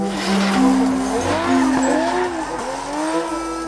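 A toy race car plays a loud electronic racing effect: roaring engine revs that rise and fall in pitch, with screeching tire squeals, steady and close.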